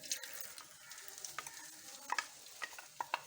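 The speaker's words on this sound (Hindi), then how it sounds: "अब सबसे पहले जाएगी ये प्याज, चॉप की भी प्याज है।" Chopped onions hit about one to one and a half cups of hot oil for potato karahi, a soft steady sizzle broken by sharp scraping stirs and clinks of a utensil against the pan near the end.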